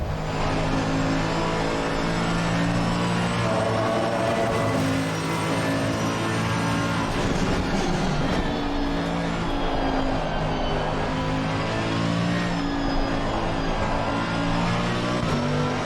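A GT3 race car engine under throttle in the sim racing game Automobilista 2 drones loudly and steadily with shifting revs throughout, with no talk.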